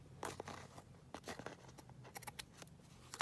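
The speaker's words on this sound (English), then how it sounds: "Snip that off." Scissors snip through paint sample cards while a journal is being made, giving a few sharp, close cuts mixed with soft crinkling and handling of paper, with no talking.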